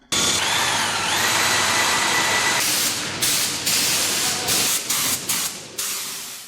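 Power tools whine and buzz loudly in a municipal carpentry workshop, a high-pitched motor running steadily, then stopping and starting in short bursts.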